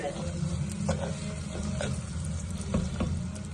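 Small onions sauté in a clay pot, giving a steady dense sizzle with occasional scraping strokes of a stirring spoon, close and fairly loud, with no speech.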